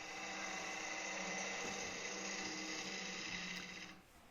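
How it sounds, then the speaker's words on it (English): A half-inch 55-degree swept-back bowl gouge cuts the end grain of a small wood blank spinning on a lathe. The steady, close whirring hiss of the cut holds for about four seconds, then drops away. "I'm taking my 1/2 inch 55-degree bevel swept back bowl gouge, and I'm cleaning up the end of this blank to make it nice and flat"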